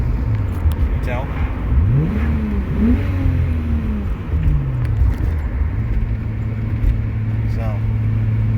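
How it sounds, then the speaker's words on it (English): A rare wagon car's engine revs and accelerates close up, with rising and falling pitch sweeps as it climbs through gears, loud and steady over road noise. "This car is sounding very nice."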